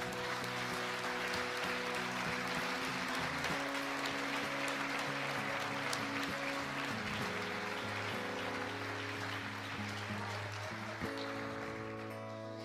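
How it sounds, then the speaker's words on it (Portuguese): Church congregation applauding after a call to praise, a dense continuous patter of clapping that holds steady throughout and fades slightly at the end, under a sustained organ or keyboard chord. "Aplauda o Senhor."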